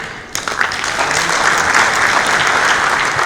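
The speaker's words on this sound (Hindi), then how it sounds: "तालियां आपने अपने लिए ही इतनी कमजोर बजाई है" A large audience at a Hindi comedy poetry show in Dubai bursts into loud, dense clapping after a brief pause, then keeps up sustained, even applause close to the microphone.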